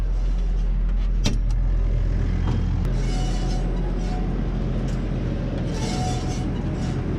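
Farm tractor idling at tick over while powering silage machinery, a steady, loud continuous engine drone with mechanical rattles and occasional clunks, no talking.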